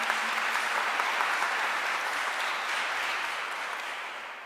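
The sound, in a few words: church congregation applauding loudly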